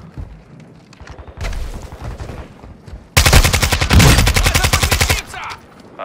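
Rapid automatic gunfire from Call of Duty: Modern Warfare II, a loud burst of repeated shots after quieter scattered firing, with short pauses between bursts.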